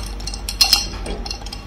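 A spoon stirs an orange mojito mocktail with ice cubes in a glass, producing light, rapid clinks and a couple of brighter taps, close and alone.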